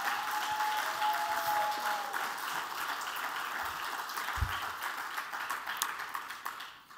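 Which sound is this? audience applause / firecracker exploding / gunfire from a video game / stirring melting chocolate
audience applause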